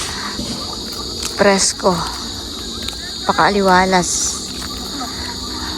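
Crickets chirp steadily beside rice fields at night, a thin continuous high trill in the background while people talk nearby.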